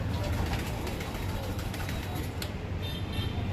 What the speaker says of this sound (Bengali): দেখো পায়রা, হ্যাঁ অনেকগুলো পায়রা আছে।